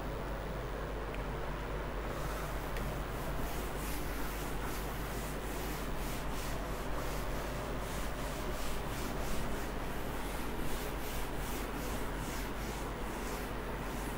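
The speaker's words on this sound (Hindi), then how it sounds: "बच्चों ए इनवर्स की वैल्यू यहाँ पर नीड होगी, तो मैं इतना स्लॉट रब करता हूँ।" Repeated rubbing strokes as writing is wiped off a board during a maths lesson, a faint, rhythmic scrubbing that continues steadily with no voice over it.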